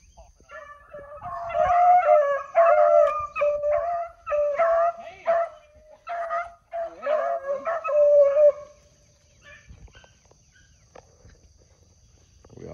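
A hunting dog barks and bays in rapid bursts, loud and close, with yelping notes, then falls quiet near the end.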